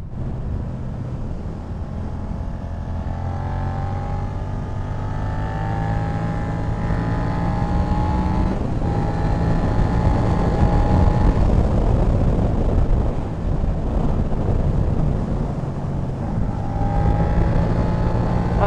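Engine of a Suzuki SV650 X motorcycle revving steadily through the revs, a continuous loud droning tone with rising and falling harmonics, heard close with wind rush and no talking.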